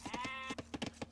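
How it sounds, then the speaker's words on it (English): A video game sheep gives a short bleat, heard as a brief wavering cry followed by a few soft thuds during an esports match. "Well, by the time Jordan looks at Discord, he will chop through the sheep"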